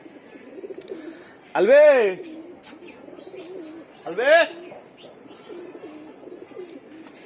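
A homing pigeon that had strayed during a flying session and returned days later gives two loud, close coos a few seconds apart, with someone speaking softly in between.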